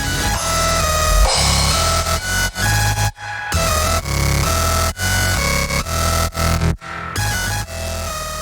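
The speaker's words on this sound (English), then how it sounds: "I've always just called it the brostep bass scream." A synthesized brostep bass scream of the dubstep kind rips out loud and harsh, a dense, growling, screeching synth line with rapid rhythmic cuts and short gaps running throughout.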